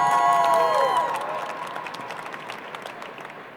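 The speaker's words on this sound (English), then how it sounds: "Big round of applause, please." Audience at the 2022 US Brewers Cup coffee championship applauding a competitor, starting with a loud burst of clapping and a whistle or cheer, then gradually fading into scattered claps.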